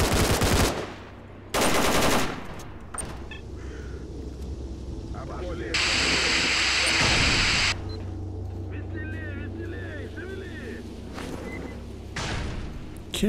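Bursts of automatic gunfire in S.T.A.L.K.E.R. Call of Pripyat, loud rattling volleys at the start and again later, with someone talking in between and steady ambient game noise underneath.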